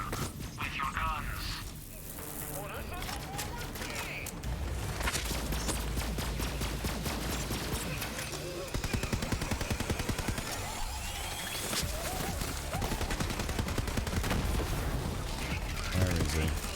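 Rapid gunfire from Borderlands 3, with sustained bursts of shots and mechanical clatter running continuously alongside game effects, while a voice talks over the action.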